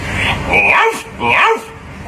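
A person imitates a dog barking, two yelping woofs close to the microphone, with a brief breathy pause between them.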